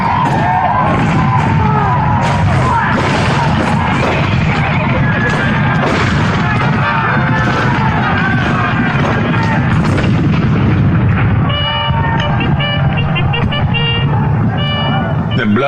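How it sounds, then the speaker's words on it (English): Cannon fire for the Fort Sumter scene of the Civil War segment in Disney's Hall of Presidents show, 2009 edition: heavy booms and rumbling blasts over dramatic orchestral music, with yelling crowd voices throughout. "The cannon spoke for war, bitter, violent,"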